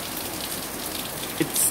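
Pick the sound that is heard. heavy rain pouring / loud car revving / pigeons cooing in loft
heavy rain pouring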